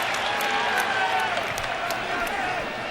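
A vociferous football stadium crowd roars steadily at an international friendly between the USA and Brazil, a dense continuous wash of cheering with scattered claps beneath a commentator's voice.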